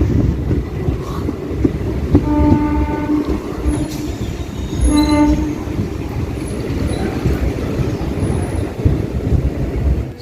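A train rolls into Dignagar station with steady rumble and rail clatter, brief horn blasts and high wheel squeal, heard from close by.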